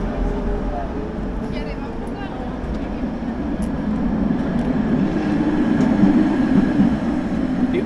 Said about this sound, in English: The old school trams.